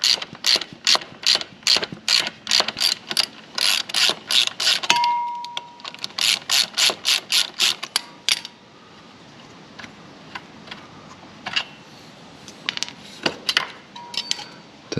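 A hand ratchet on a 17mm socket removes the kickstand lock nut on a Kawasaki KLR 650 motorcycle, a rapid series of close, crisp clicking bursts in repeated strokes, then sparser, slower clicks.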